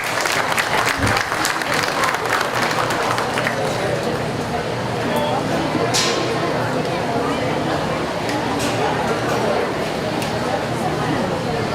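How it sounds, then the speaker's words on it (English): Sustained audience applause fills a county fair goat show arena, steady and fairly loud throughout, with dense clapping and occasional voices mixed in. "Let's give our sponsors a big round of applause."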